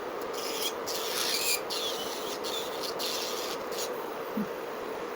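An electric nail drill files down an acrylic nail extension, giving a steady close hiss and whirring rasp that runs continuously, with brief dips in pressure as the bit lifts and returns.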